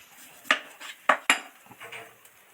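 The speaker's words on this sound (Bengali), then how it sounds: "সবার আগে পেঁয়াজটা কেটে ছাড়িয়ে গুছিয়ে নিই" A heavy kitchen knife cuts through an onion, giving a few sharp, close taps against the board, two in quick succession, followed by softer faint contacts.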